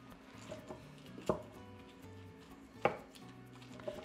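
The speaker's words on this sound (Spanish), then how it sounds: "Vamos a molerlos también muy bien" Serrano chiles being ground with salt, onion and garlic, likely in a stone mortar, giving soft scraping strokes broken by a few sharp knocks. The sounds are quiet and close.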